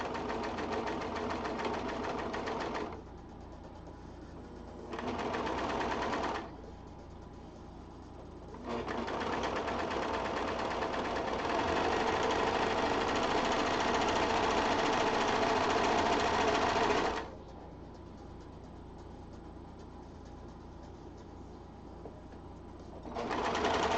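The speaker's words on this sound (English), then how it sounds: "I'm trying to convince you that a serger is good." A serger sewing machine runs in long steady bursts with brief pauses between, a dense close whirring buzz that starts, stops, and resumes several times, no one speaking over it.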